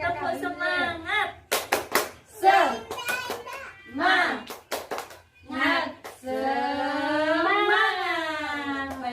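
Tepuk semangat spirit clap by a group of women: crisp patterned bursts of hand claps between chanted words, closing with a sustained voiced group cheer, all fairly close.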